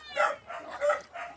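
A few small dogs yipping and barking in short bursts in Calbayog, Samar, fairly close, about four quick barks with brief gaps between them.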